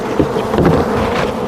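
Honey bees buzzing close by at an open hive during a mite wash: a dense, steady swarm hum that fills the whole moment without a break.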